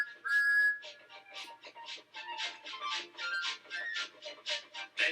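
The toy steam engine whistle gives a long opening peep, then a run of short, bright peeps in a steady rhythm, each fairly close and moderately soft.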